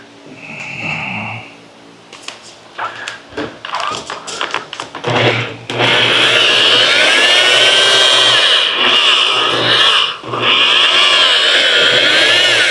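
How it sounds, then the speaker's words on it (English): Power polisher buffing rough, orange-peeled clearcoat on a car panel, a steady loud machine whine running continuously after several short bursts and taps, close up with no talking. "It needs a little bit more polishing. We'll hit it again. Now I'll go over this whole thing now."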